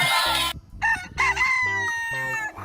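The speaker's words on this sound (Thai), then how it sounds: "โอ้ชิคเก้นไก่ครับแม่ไก่ ร้องกระตากกระตาก" A toy hen clucks loudly in a quick series of sharp, electronic-sounding calls, close up with a brief pause partway through.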